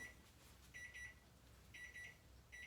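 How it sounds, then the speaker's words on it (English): Kitchen timer alarm going off while cooking on the stove, faint repeated electronic beeping in bursts of three at a steady rhythm, with no talking. "Turn off my timer."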